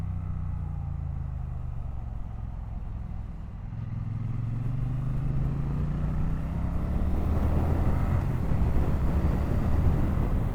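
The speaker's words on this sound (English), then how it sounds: "Engine braking is fantastic here." A 2025 Triumph Bonneville T100 motorcycle engine drones close by under engine braking, its pitch sliding down and then rising again as it decelerates, steady and fairly loud with no talking.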